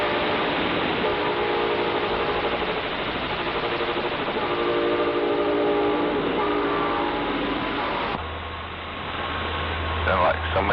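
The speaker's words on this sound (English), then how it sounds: "Getting that train going by." Train rolling past on the tracks, a loud sustained rumble with tonal horn-like notes riding over it, then dropping off abruptly to a lower hum near the end.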